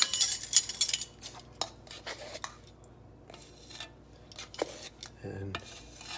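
A metal quarter-teaspoon measuring spoon is pulled out and handled among other utensils while baking cowboy cookies, a quick run of close light metallic clinks and scrapes followed by sparser small taps and rustles.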